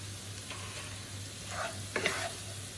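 Jali pieces with a little turmeric sizzling in a pan, a soft continuous frying hiss with a few brief stirring scrapes, fairly quiet throughout.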